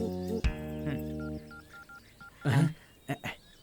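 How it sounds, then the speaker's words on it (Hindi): A telephone number is dialed on a phone, a short series of distinct beeping key tones heard close and clear with a brief noisy rustle in between. "एक काम करता हूँ, पांडी को फोन लगाता हूँ, उसे बोलता हूँ कि गाड़ी यहाँ पर लेकर आ जाए"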